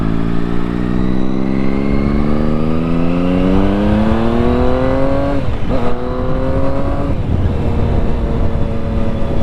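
Triumph Daytona 675 sport motorcycle accelerating hard, its engine note climbing steadily in pitch through the gears with a brief dip at each shift, loud and close throughout with no talk.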